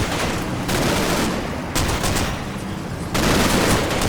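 Dense covering gunfire from rifles and machine guns in the World War II strategy game Combat Mission Battle for Normandy, as troops with half-track support rush a village; loud, continuous crackling volleys with sharp surges, no voices.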